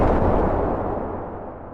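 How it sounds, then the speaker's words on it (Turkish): A heavy boom erupts as the ship Britannic strikes a mine in the Aegean Sea in 1916, a loud close blast that rumbles and fades away. "Sabah kahvaltısı sırasında korkunç bir patlama."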